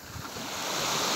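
Waves washing up onto a beach in Dominica, a broad rushing surge that builds steadily and stays loud, mixed with wind noise, with no voices.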